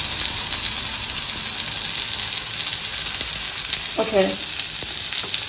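Miso salmon sears in a hot pan, giving a steady hissing sizzle close up throughout, with one short spoken word partway through.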